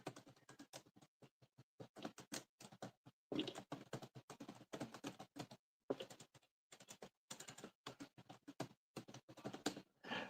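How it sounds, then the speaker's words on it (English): Rapid typing on a computer keyboard, quick bursts of clicking keystrokes with short pauses between runs, close and fairly quiet. "I'm typing something real quick."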